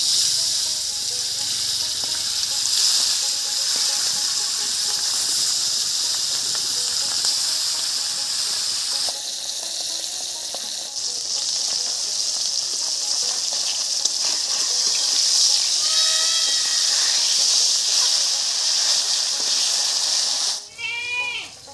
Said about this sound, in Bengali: এবারে ভেজে নিচ্ছি।